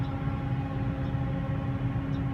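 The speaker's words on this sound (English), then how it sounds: "Sounds like we got some howling EMDs on this train." EMD diesel locomotives pulling a train with a steady, loud turbocharger howl, a continuous low engine drone with a sustained whine on top, close by and with no talking.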